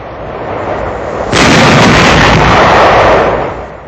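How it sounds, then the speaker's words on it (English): Gunfire on enemy barges in the Rhine near Dusseldorf in 1945, recorded for a wartime newsreel, a loud rushing blast of gunfire that swells suddenly and holds, harsh and distorted over a steady background roar. "Firing on enemy barges in the Rhine before Dusseldorf."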